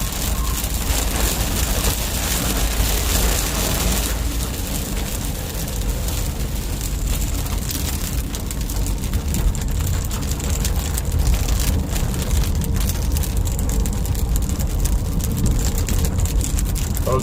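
Steady broadband hiss of rain and road noise from inside a car moving on the Cipali toll highway in Indonesia, continuous and fairly loud, with a wash of wind and tire roar throughout.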